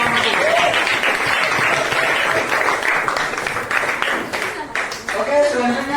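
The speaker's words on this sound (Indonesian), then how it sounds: "Ayo kita beri tepuk tangan untuk kelompok" Classroom applause for a student group at a junior high school, a steady burst of clapping from many pupils that carries through the whole stretch with a brief dip near the end.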